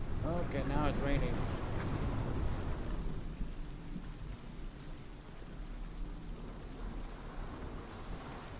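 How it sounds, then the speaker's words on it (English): Rain pours steadily in the video game Hellblade: Senua's Sacrifice, a dense hiss with low thunder rumbling underneath and a brief burst of voice-like sound near the start, continuing alone as a fairly quiet, even wash. "Okay, now it's raining."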